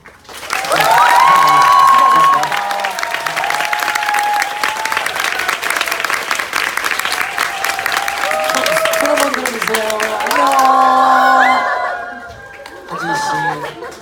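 Audience applause for five guests at the close of a talk-live concert event, a full, steady clapping crowd lasting most of the stretch, with voices and music-like tones speaking over it and a brief renewed burst near the end.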